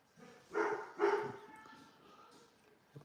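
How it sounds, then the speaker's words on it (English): A dog barks twice loudly at close range, followed by softer whining and a short final yip, against a quiet indoor background. "my dog's going batshit crazy"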